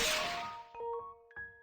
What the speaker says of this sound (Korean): 그 순간 갑자기 방에 총소리가 울려 퍼졌다.